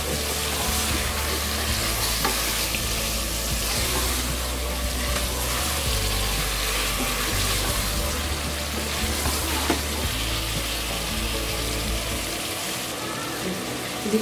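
Mutton sears in a karahi with a dense, continuous sizzle and crackle, stirred now and then, holding steady and loud before easing off near the end.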